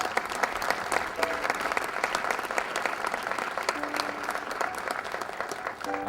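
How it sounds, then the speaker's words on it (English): Audience applause for Don Wessler at a Korean War clock dedication on Veterans Day in Scotch Plains, a steady round of moderate clapping from a gathered crowd lasting several seconds. "Another round of applause for Don Wessler."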